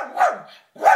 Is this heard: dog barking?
yes